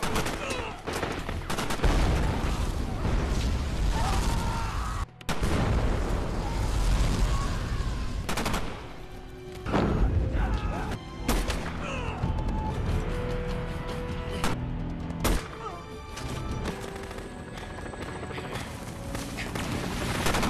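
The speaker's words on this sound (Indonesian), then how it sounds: "dengan ledakan-ledakan tersebut" Loud, dense bursts of film explosions and gunfire in a sniper action movie crackle and boom almost continuously, with a few sharp cuts between blasts.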